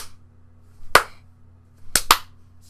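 Imitated wrestling entrance claps ring out sharply and close: one clap, then a quick double clap about a second later, with no other sound.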